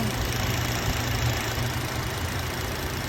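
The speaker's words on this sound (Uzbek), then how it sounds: "Motor vobshe tiniq ishlayapti." A Chevrolet Captiva's 3.6-litre engine runs with a steady, close, low rumbling drone and no voices over it.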